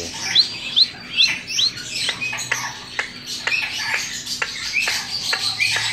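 A citron cockatoo parrot gives a run of short, sharp chirps and squawks, close and fairly loud, repeating in quick irregular bursts with no talk over them.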